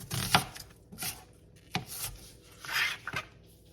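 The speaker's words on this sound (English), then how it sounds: "I'm going to start out by chopping up a small onion" A knife chops an onion on a cutting board in several sharp, uneven strikes, close by, with slicing and scraping between cuts.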